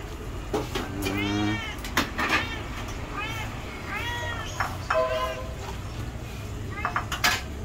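A hungry pet cat meows repeatedly in a series of rising, drawn-out calls close to the listener, with a steady background hum and a few clattering household knocks in between.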